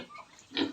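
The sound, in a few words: pigs on a piggery farm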